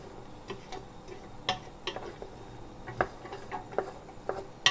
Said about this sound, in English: you're going to mix that in as well and coat all the veg with spices